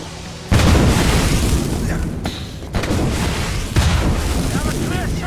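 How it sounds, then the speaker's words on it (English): A grenade blast in the Assassin's Creed Rogue game erupts suddenly as a loud boom, followed by a couple more rumbling bursts amid chaotic battle noise. "That was a grenade!"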